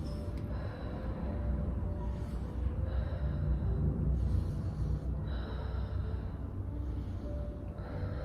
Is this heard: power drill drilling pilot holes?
no